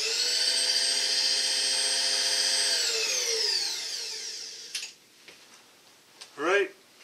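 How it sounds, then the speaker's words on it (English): Milling machine spinning at about 700 RPM with a 5/8 end mill on an aluminum bracket gives a steady high-pitched whine that glides downward and fades as the spindle winds down, followed by a few brief clicks and knocks. "I'm running around 700 RPM, the 5/8 end mill"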